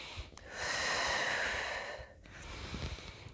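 A long, breathy exhale during a pelvic floor exercise, audible close-up as a soft airy rush that swells and fades, followed by quieter breathing.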